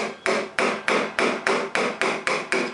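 A carpenter's butt chisel with a metal striking cap is struck with a hammer while carving a wooden stool seat by hand: about nine sharp, evenly spaced blows, close and loud, each ringing briefly before the next.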